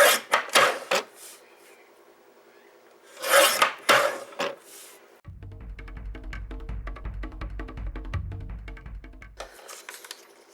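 Copy paper is cut into 1 inch strips for paper beads: a few rasping slicing strokes, then a longer stretch of rapid rattling and scraping, close and clear with no talking.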